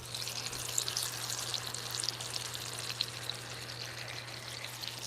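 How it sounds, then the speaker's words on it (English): Steak sizzles in a hot pan while dinner cooks, a continuous crackling hiss with scattered pops over a low steady hum, moderately close and without talk. "Can you hear the sizzle?"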